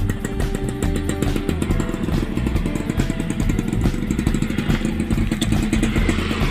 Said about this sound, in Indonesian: Bang Mamat wes pakai motor.